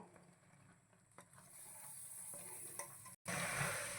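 Grated coconut being stirred into hot jaggery syrup for coconut balls, a faint, close scraping and soft sizzling with a few small clicks of the spoon against the pan.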